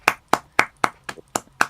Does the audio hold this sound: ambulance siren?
no